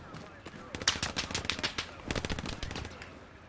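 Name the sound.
gunfire from a friendly player in a WW2 video game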